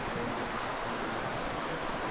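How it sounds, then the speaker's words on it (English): An underground creek in Howe Caverns rushes steadily, a dense, even wash of flowing water filling the whole clip at close range with no pauses and no voices. "this beautiful underground creek"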